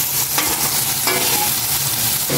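Ingredients sautéing in a pan with steady, loud sizzling and frying hiss, broken by brief scraping stirs, close and continuous.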